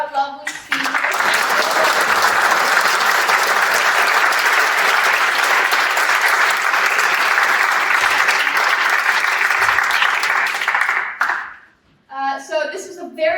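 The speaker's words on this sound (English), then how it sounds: "So I would like to give one more big round of applause to all our lovely speakers." Audience at a school TEDx event breaking into loud, sustained applause for the speakers, a dense even roar of clapping that stops abruptly before a voice resumes talking.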